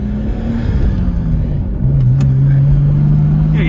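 Nissan Skyline R32 accelerating on a street toward a stop sign: a loud, close engine drone climbs steadily in pitch, dips briefly at a shift, then keeps rising, with no one speaking.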